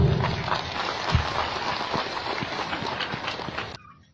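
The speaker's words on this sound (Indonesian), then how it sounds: "Tepuk tangan dulu." An audience at an Indonesian religious lecture gives dense, continuous applause, a rushing wash of many overlapping claps at steady loudness that cuts off abruptly after nearly four seconds.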